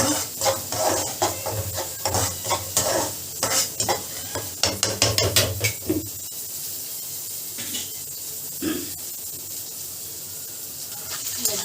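Palak and potato gravy stirred in a pan, rhythmic scraping strokes of a spoon against metal over a light sizzle, then quieter simmering with a couple of soft knocks.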